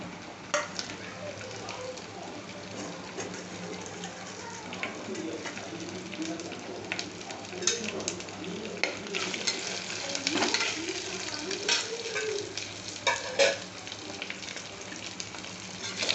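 Onions, green chilli and curry leaves fry in a pan for tomato rice, with a soft steady sizzle and scattered scraping stir strokes; a person talks faintly in the background.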